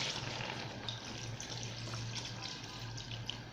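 Cold water poured into a pot of ekpang nkukwo while cooking, a continuous soft gushing splash, faint and steady throughout with no talking.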